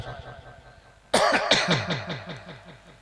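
A man coughs during a late-night religious sermon, one sharp loud burst followed by a run of smaller rhythmic coughs that fade over a couple of seconds, after a quiet stretch.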